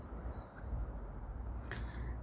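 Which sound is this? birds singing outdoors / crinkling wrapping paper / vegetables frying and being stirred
birds singing outdoors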